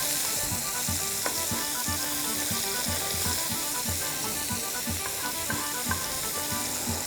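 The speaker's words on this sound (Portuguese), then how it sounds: "Depois disso, vou refogar aqui 1 colher de cebola" A spoonful of chopped onion, red or white, sautés in fat in a pan, giving a steady moderate sizzle and hiss with a few faint stirring taps. A low tonal background pattern runs throughout, and no one speaks.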